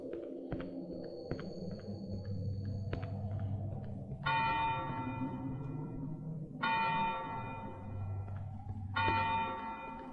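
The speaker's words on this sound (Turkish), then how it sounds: "Çanlar kimin için çalıyor" Church bells toll in the horror video game Cry of Fear, with three loud, sustained ringing peals arriving in sequence over a low droning hum, no voices present.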